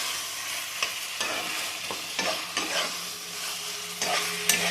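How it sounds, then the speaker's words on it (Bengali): Chicken and ginger-garlic paste are stirred in a hot pan, with a spoon scraping and knocking against the metal in irregular strokes over a steady low sizzle. The sound is close and moderately loud, with no talking. "দিয়ে আমি আবার একবার ভালো করে নেড়ে দেবো সব কিছুর সাথে"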